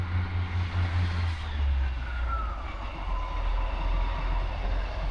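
A train runs along a railway line on an embankment, a steady low rumble rolling past with a faint rising whine, heard from a footpath nearby.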